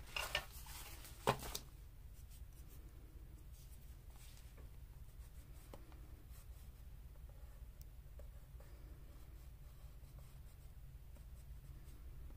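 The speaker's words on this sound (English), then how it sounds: "I'm going to do my Stabilo All Pencil again, and we'll just add a little bit of a shadow." A Stabilo All pencil scratches softly across paper while shading in an altered-book junk journal, with faint continuous strokes and a few light taps, quiet and close, no talking.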